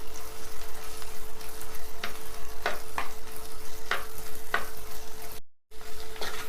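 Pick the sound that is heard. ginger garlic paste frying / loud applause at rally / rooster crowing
ginger garlic paste frying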